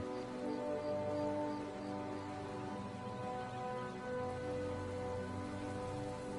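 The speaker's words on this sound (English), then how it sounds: "oh, now it's raining" Steady rain in the video game Skyrim patters continuously over a sustained, even hiss, with faint tonal hum layered underneath; no voices.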